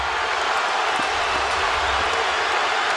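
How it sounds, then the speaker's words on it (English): A basketball arena crowd at the Air Canada Centre cheering and applauding, a dense, loud, unbroken roar for the whole stretch. "The crowd on its feet here at the Air Canada Center"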